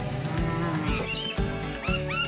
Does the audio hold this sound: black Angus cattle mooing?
yes